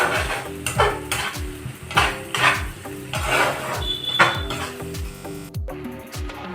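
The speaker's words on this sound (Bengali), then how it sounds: "এবার তেল ছাড়া পর্যন্ত কিন্তু আমি মশলাটা খুব ভালো করে কষিয়ে নেব" Masala sizzling in oil in a pan as a spoon scrapes and stirs it in steady repeated strokes, close and fairly loud, with clinks against the pan.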